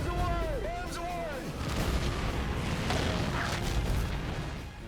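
Bombs exploding in a film battle scene, a dense continuous roar of blasts and rumbling booms with crackling debris, loud throughout with gliding whistle-like tones early on and music or voices blended in.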